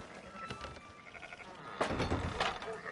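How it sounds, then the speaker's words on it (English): Sheep bleat repeatedly in the Red Dead Redemption II video game, several wavering cries of moderate loudness mixed with livestock shuffling and faint voices nearby. "Fine sheep."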